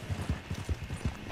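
Horse hooves clip-clopping on the ground in Red Dead Online, a quick, even series of about eight muffled thuds at a walking-to-trotting pace, close and moderately loud.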